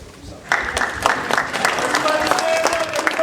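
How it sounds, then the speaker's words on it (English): An audience applauds as a guest speaker is welcomed at an Upward Bound event, with sustained clapping that swells after a brief lull and carries crowd cheers and voices mixed in. "Everybody stand to your feet and clap your hands like this."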